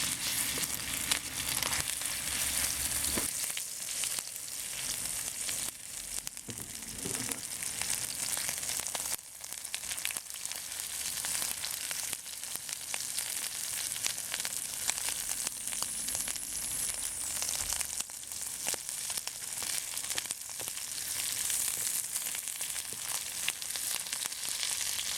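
Shrimp sizzles in hot oil in a pan, a dense, continuous crackle that holds steady throughout with occasional stirring scrapes and no talking.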